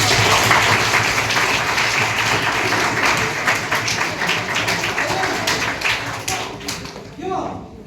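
A lecture audience claps densely and steadily for about seven seconds, with voices mixed in, before the clapping thins out and stops near the end.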